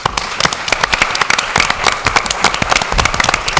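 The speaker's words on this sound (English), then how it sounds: "please, a round of applause" Audience applause at a 2018 Chamber of Commerce city council candidate debate, with brisk, sharp hand claps from a sizable crowd in a continuous, crackling rush.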